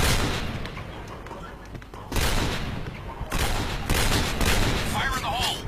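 Heavy video-game gunfire during a clan match, dense overlapping bursts that swell louder in waves, with players talking over the shooting.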